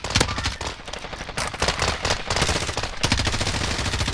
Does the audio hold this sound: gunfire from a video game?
yes